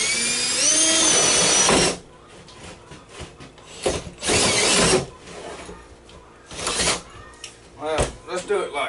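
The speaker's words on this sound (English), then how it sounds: "So go ahead and drill your hole up here first." A power drill whines in short bursts, biting into cedar wood with grinding and rattling between pauses, close by and fairly loud, while building a bluebird house.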